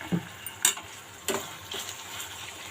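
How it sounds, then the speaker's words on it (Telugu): Masala sizzles softly in hot oil in a pan for a village-style dried fish and brinjal curry, a steady faint frying hiss broken by a few spoon stirs and scrapes, no talking. "మొత్తం ఇవన్నీ బాగా వేపేసుకోవాలి చూడండి మనకి అన్నీ బాగా వేగిపోయాయి చూసారా ఆయిల్ అన్నది ఎలా తేలుతుందో పైకి"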